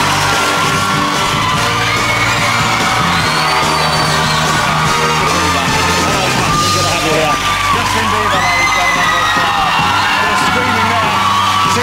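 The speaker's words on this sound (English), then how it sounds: "How do you deal with the screaming?" Fan audience at a TV talk show screaming and cheering for Justin Bieber, a dense continuous roar of high-pitched shrieks and whoops that stays loud throughout the clip.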